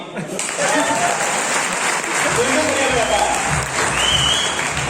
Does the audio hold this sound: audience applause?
yes